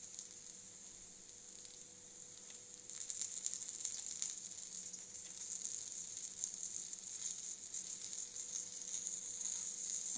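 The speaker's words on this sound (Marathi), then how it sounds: "आता हे भाजून निघतंय" Tomato slices roast in a clay pot with a steady, quiet sizzle and faint crackling pops. The sizzle grows a little busier partway through and keeps going to the end.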